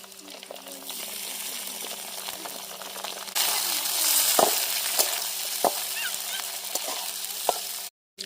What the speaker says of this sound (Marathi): मिरची पण टाकून घेते. खडा मसाला टाकून घेतलाय. कांदा मिरच्या